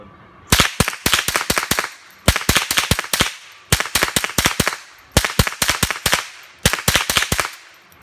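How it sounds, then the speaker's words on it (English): A Ruger 10/22 semi-automatic rifle fires in five quick bursts of sharp, loud cracks, each string of about five to seven shots separated by brief pauses, outdoors toward an earthen bank. "I'm just going to shoot at the bank a little bit just to have a little bit of fun."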